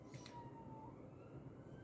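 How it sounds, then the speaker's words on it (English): A faint distant police car siren wails briefly, its tone sliding as it passes, over a steady low background hum. "Sorry, there's a police car going past in the background."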